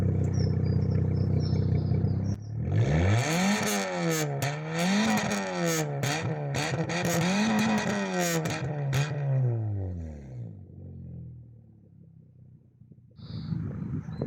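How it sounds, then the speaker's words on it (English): Modified Fiat Punto Grande Eleganza fitted with a Mitsubishi Evo sports cat and sports exhaust, starting up and rising and falling through several throaty revs before settling to a quieter burble, recorded close with no talking. "now you're going to be able to hear the Mitsubishi Evo Sports Cat and the sports exhaust"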